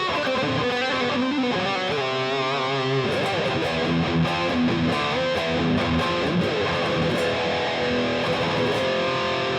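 Ibanez RG5170 Prestige electric guitar through a Fishman Fluence bridge pickup, played loud and distorted with sustained chords and busy riffing that changes character about three seconds in, continuing steadily with no talking.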